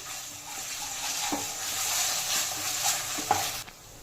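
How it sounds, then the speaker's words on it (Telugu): Ginger garlic paste frying in a pan for a Chettinad chicken curry, a steady close sizzle with occasional stirring scrapes, no voices. "వేసుకున్నాక పచ్చివాసన పోయేంత వరకు బాగా వేయించుకోవాలి."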